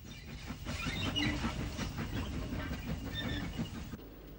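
A former Midland Great Western 0-6-0 tank engine hauling vintage parcels and fitted vans passes through a station, a faint, distant rumble with rhythmic wheel clatter that fades at the end.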